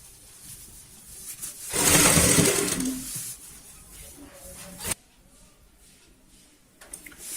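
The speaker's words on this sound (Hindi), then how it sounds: "पूरे पीस में हम सेम इसी तरीके से इस सिलाई को कवर कर लेते हैं" A sewing machine runs a short burst of stitching along a frill on a baby bed sheet, close and moderately loud, then stops with a click, followed by quieter handling of the fabric.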